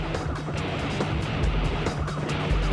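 A suspects' car speeding through stationary traffic at a busy junction during a police chase, a continuous engine roar with rising whooshes of passing vehicles, fairly close and steady.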